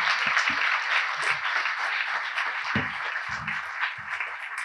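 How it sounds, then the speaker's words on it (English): An audience applauds teachers at a live community night, a steady, even roar of many clapping hands at moderate loudness with a few low thumps mixed in and no pause. "Give them one more round of applause."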